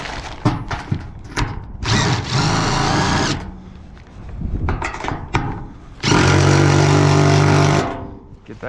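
Power drill tightening a bolt during a shop remodel: several short bursts of whirring motor, then a longer, louder sustained run near the end, close by with brief gaps between.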